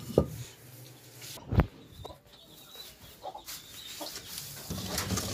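A rooster clucks in short bursts near the start and middle, with faint scattered bird calls and rustling in a quiet farmyard background.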